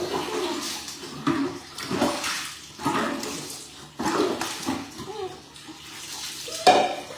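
Water splashing and sloshing as children are bathed, recurring bursts of splashes in an uneven rhythm, close by and moderately loud, with occasional talk mixed in.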